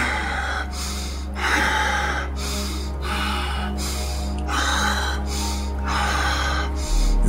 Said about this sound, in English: We're going to do 21 breaths in through the nose,